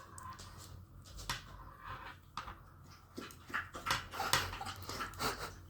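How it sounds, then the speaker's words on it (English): A pet dog named Lily laps water from a bowl, a quiet series of quick wet slurps and tongue clicks coming in irregular bursts, close but faint. "That's Lily, my dog, drinking water."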